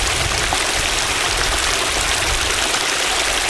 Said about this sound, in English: these waterfalls and all the water running down the riverbed, pretty cool.